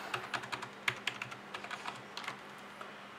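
Keys pressed on an ASUS Cerberus gaming keyboard, a quick uneven run of close, crisp clicks, some doubled, easing off into a few scattered taps.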